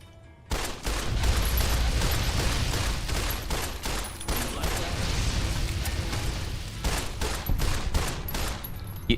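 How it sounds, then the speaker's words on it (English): Rapid 10mm pistol fire in Fallout: New Vegas, a dense string of loud, closely spaced shots running nearly nonstop for several seconds. "I think the 10 mil pistol might do it."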